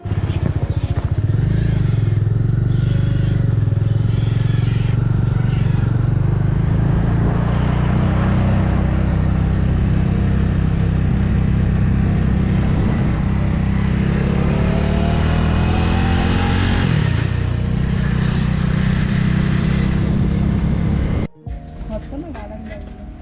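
Motorcycle engine and road noise during a ride, a steady loud drone with wind rumble that cuts off abruptly near the end; a voice talks over it.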